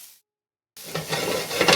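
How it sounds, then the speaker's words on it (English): Chopped onions sweating in a pan for a Sunday sauce give off a steady close sizzle with light stirring scrapes, starting after a short silent gap. "Look at this in there as it sweats."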